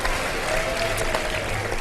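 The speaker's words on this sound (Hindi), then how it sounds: "सबके लिए बहुत सारी तालियां होनी चाहिए" A TV game show studio audience applauds in a brief, even burst of clapping, moderately loud and filling the room without a voice over it.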